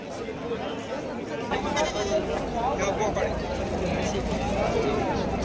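Goats bleat amid a busy livestock market in Shirur, Pune district, where goats, sheep and kids are sold, with a steady crowd babble and nearby voices talking throughout.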